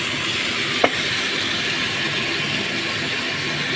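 A mashed paneer and soybean mix sizzles steadily in a hot pan, producing a continuous, fairly loud frying hiss with one brief clink partway through and no talk.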